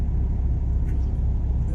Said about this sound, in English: so a lot more traffic than I thought would be out for 6:30 in the morning